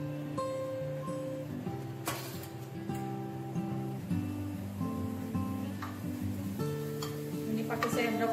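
Light scraping and clinking of a spoon stirring shallots and garlic frying in a Teflon pan over a soft sizzle, with music playing in the background.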